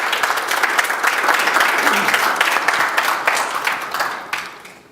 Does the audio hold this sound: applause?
yes